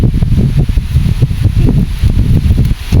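Strong wind gusts buffet the microphone outdoors, loud irregular low rumbling bursts that surge and ease repeatedly for the whole stretch.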